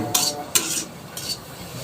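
Bay leaf, onion and cloves go into a hot pan on the stove for a country chicken curry, giving three short bursts of stirring and sizzling at close range, with quieter frying noise between them and no talk.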